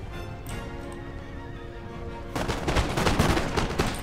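A musket volley fires at an artillery battery in Empire Total War, with a dense burst of crackling shots rising over a busy battlefield hum with horses, close and loud.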